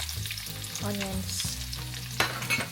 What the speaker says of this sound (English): Put the garlic. Then mix it one like that. Make it brown.